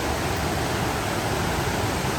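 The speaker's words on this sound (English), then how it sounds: "Here's a nice little run of cascades down from Mouse Creek Falls along Big Creek." Cascades rushing along Big Creek below Mouse Creek Falls in the Smokies, a dense, steady roar of churning water filling the whole sound, close and constant with no voices.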